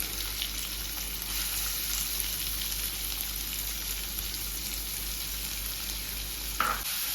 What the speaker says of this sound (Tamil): இந்த வெங்காயம் நல்லா பொன்னிறமாக வறுபடணும்